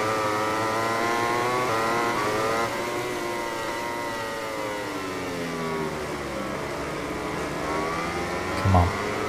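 Racing motorcycles in MotoGP 20, Petronas Yamahas among them, their engines holding a steady high-pitched whine that shifts through gears as the bikes run close together.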